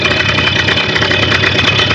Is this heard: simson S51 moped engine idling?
yes